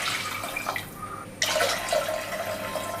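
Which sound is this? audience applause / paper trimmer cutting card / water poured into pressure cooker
water poured into pressure cooker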